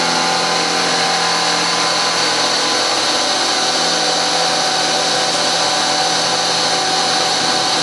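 Steady, loud broadband whir of a 4-flute end mill cutting aluminum under flooded coolant, a continuous machining hiss with a constant high tone running throughout and no talk.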